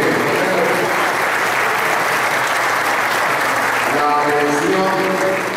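Loud, sustained applause from a conference audience at a talk on water, a dense roar of clapping with some voices mixed in near the end.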